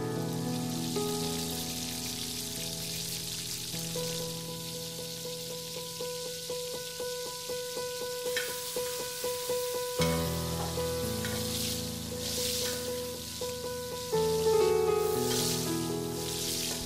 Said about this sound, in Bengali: সব ইনগ্রেডিয়েন্টস কিছুক্ষণ ভাজার পরে আপনি এবার তাতে দিয়ে দিবেন নানা রঙের তৈরি করা সবজি।